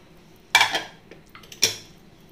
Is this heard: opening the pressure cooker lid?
yes